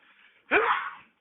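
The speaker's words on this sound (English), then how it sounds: "it took a second for the sneeze to come in there" A single loud sneeze bursts out after a brief quiet pause, sharp at onset then trailing off, close and alone.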